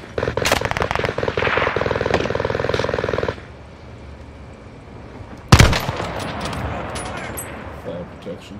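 Video game gunfire: a rapid burst of close automatic shots for a few seconds, then a quiet stretch and one sharp loud shot followed by scattered fainter cracks.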